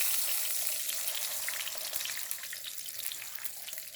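Big Mac style burger patties fry in a pan with a dense, steady hiss and crackle of sizzling oil, close and continuous, with faint spattering pops and no speech.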